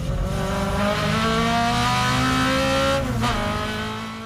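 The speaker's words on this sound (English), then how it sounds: "the whole experience of going with a race car around the racetrack with full power" A race car at full power on a racetrack, its loud, continuous engine roar holding steady harmonics. The tone dips briefly near the end, as if shifting gear or lifting, then carries on.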